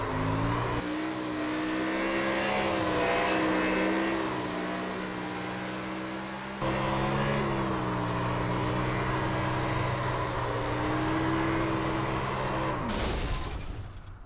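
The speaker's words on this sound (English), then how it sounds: "you walk the car going any direction whilst you're got the rear tires just spinning like crazy" Cup race car's engine roaring loud and steady at high revs while the rear tires spin to walk the car around, with a brief drop and sharp burst near the end.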